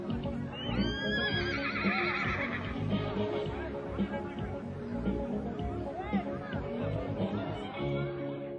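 Horses neighing at a Kyrgyz gathering of races and horse games in the Tian Shan mountains, several loud close whinnies over a busy outdoor crowd with hoofbeats and chatter.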